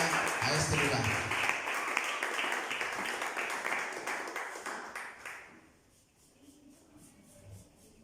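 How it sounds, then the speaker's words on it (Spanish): Audience at a church concert clapping as a singer comes forward, dense applause that gradually thins and fades out after about five seconds, leaving quiet room sound. "denle un fuerte aplauso mientras ella pasa a este lugar"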